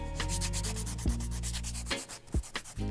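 Fingers rub glitter right against the microphone, producing a rough, rhythmic scratchy rasp with occasional louder thumps, very close.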